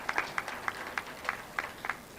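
A modest round of applause for distributors at a company event: sparse, fairly faint claps arrive in a loose, uneven patter from a small audience, with no talking.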